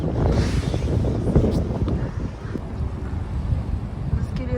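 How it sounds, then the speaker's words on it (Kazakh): Wind blowing outdoors, a steady broadband rush that buffets the microphone throughout, loud and close, with faint voices now and then underneath. "Далада жел."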